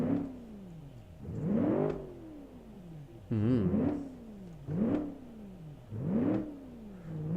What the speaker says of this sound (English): I'm gonna rev this